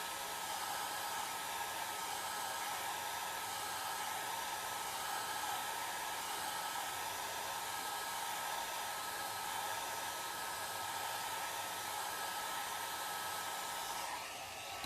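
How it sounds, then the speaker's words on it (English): Hair dryer blowing with a constant steady whoosh and whine, close and unchanging throughout, cutting off briefly right at the end. "I'm going to keep my dryer running while I do this."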